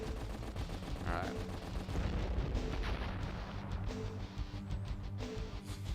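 A futuristic video game war battle rages with dense, continuous gunfire and rumbling bursts, a steady wall of rapid shots and low booms that never lets up.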